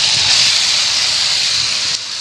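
Meat hits hot, oil-released fried spice paste for a Bengali meat ghugni, setting off a loud, continuous sizzle that holds steady and eases slightly near the end, with no talking.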